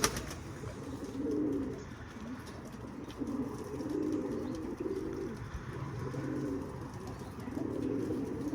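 Soft, low pigeon coos from an office coop repeat in gentle rolling phrases, several calls in a row, fairly faint against quiet background.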